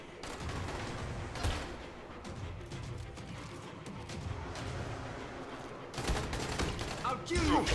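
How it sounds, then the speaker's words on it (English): Scattered gunfire in the zombie game Dying Light, a spread of sharp shots and bursts at moderate distance mixed with game noise, growing louder and denser toward the end. "Who's shooting at me right now?"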